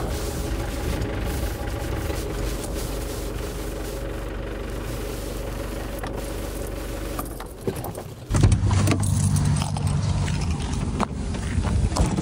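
An old motorhome rolls into a Tesco supermarket car park, its engine a continuous low rumble with rattles and jangling inside the cab, shifting abruptly near the end as it slows.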